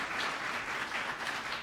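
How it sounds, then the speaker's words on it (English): A conference audience applauds after an AI-in-the-workforce panel discussion, a dense, even wash of many hands clapping at steady loudness throughout, with no voices over it. "Please give a round of applause."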